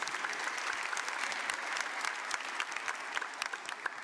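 A church congregation applauds steadily for the whole stretch, a dense, even patter of many hands, moderately distant and fairly quiet, with no voices over it.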